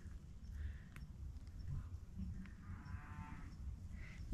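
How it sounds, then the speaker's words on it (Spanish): A cow on a hillside trail in Uruguay gives a faint, distant moo over steady outdoor background noise. "Y ahí se escucha la vaca."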